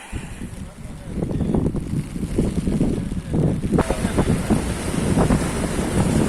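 Sea water surges in along a beach under strong wind, a rough continuous rush with heavy wind buffeting on the microphone throughout.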